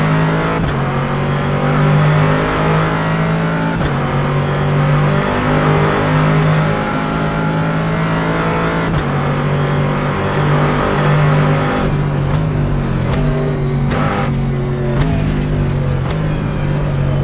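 A race car engine in rFactor 2 at Sebring International Raceway drones loudly at high revs, pitch climbing through gears with brief drops at shifts, then choppy downshift blips near the end.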